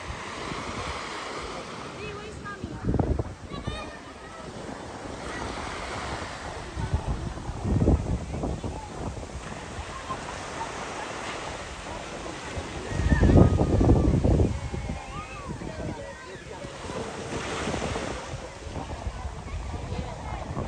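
Surf rolls onto the shore at Pagudpud in Ilocos Norte, a continuous wash of waves with occasional louder surges and wind noise, while people talk intermittently.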